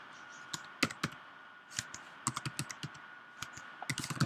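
Typing on a computer keyboard, irregular bursts of crisp key clicks with short pauses between, close and fairly quiet, no talking.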